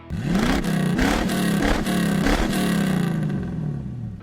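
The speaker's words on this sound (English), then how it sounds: "That deep engine voice is half the magic." A Ford Mustang V8 engine revs up close, deep rumbling rising and falling in several bursts before settling to a lower growl.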